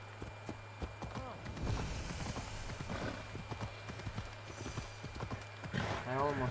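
Galloping horse in Assassin's Creed Odyssey, a steady run of clip-clop hoofbeats with a whinny near the end, heard over a low in-game hum.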